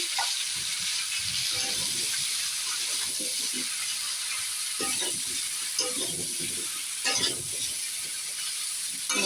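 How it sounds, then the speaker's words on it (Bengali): Bottle gourd fries in a pan under a steady hiss and sizzle, broken by intermittent soft stirring scrapes and a couple of louder clatters, heard nearby with no talking. "লাউটা আমি এখন মিনিমাম দশ মিনিট নাড়ব"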